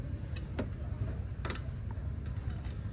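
A bolt on a car's shock absorber tower loosened with a 13 mm wrench during home suspension work, giving a couple of brief, sharp metallic clicks over a low steady background hum.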